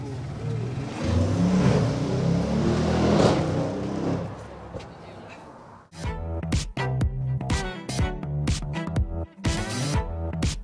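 An Audi RS7 Concept self-driving car running on the Ascari race circuit in Spain gives a sustained, loud engine roar for several seconds, which then breaks into a choppy, pulsing run of sound with no speech.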